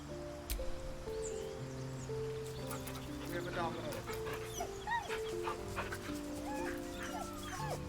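The dog Scratch in Baldur's Gate 3 gives soft yips and whimpers over steady ambient game music, with occasional faint clip-clop sounds. A voice talks throughout.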